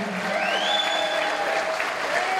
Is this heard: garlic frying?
no